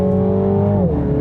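A 306 hp 2020 Mini John Cooper Works GP engine pulls hard on the Nürburgring track, a loud, close, steady drone that climbs in pitch and then drops briefly as it shifts.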